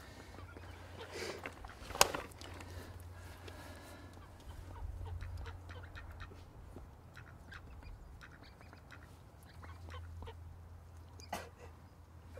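A duck at a fishing spot gives a few scattered soft quacks and rustles nearby, fairly faint, against quiet outdoor background.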